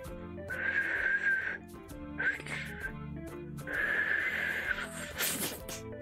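A person struggles to whistle, producing breathy, wavering tones in two longer stretches with short bursts between, heard over music playing in the background.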